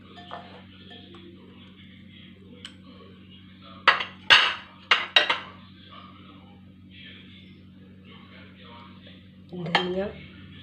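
A few sharp clinks and scrapes of a utensil against a bowl of boiled potatoes, peas and paneer in a short cluster, then a later clatter, with quiet gaps between.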